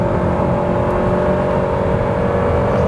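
A 2021 Honda Civic EX with a CVT at full throttle, its engine holding one steady droning pitch as it pulls hard, loud and close from the cabin, with no gear shifts.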